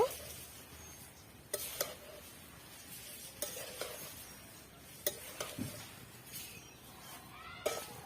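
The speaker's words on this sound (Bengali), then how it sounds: "শুকনো চিড়েগুলোকে আমি নেড়ে নেড়ে হালকা ভেজে নেব।" Dry flattened rice (chira) is lightly toasted without oil in a pan and stirred now and then. Faint rustling and scraping strokes rise over a quiet, soft background, with a few sharper utensil knocks.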